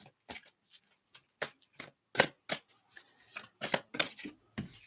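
Tarot cards being shuffled up close, a steady run of crisp riffles and snaps at an uneven pace, quiet with no talking.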